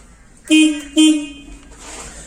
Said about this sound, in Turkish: Burada bir kornamız var.